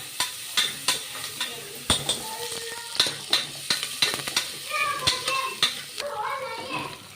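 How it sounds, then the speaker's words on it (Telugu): Onion, green chili and curry leaves stir-fry in oil for a Rayalaseema-style mutton curry, with steady sizzling broken by repeated sharp spatula scrapes and taps against the pan, and faint children's voices in the background. "తర్వాత ఆనియన్ పచ్చిమిర్చి కరివేపాకు ఇదంతా వేసి అయితే ఒకసారి మొత్తం ఫ్రై చేసుకున్నాము"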